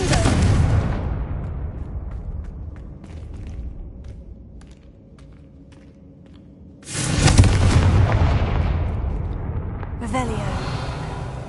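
Confringo fire spells burst in Hogwarts Legacy, each one a loud booming blast; one heavy explosion opens the stretch and another erupts midway, trailing into rumbling debris, with a quieter lull between.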